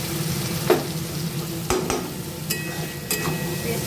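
Onion and fenugreek paste fries in a pan with a steady sizzle, broken by a few sharp scrapes and clinks as it is stirred, close and alone.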